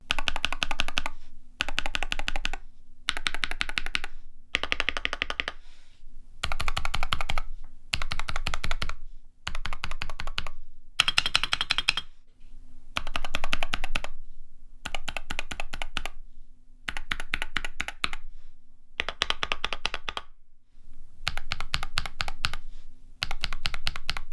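Bursts of rapid typing on a Wooting 60HE V2 mechanical keyboard, crisp clacking keystrokes in repeated stretches separated by short silences, close and clear.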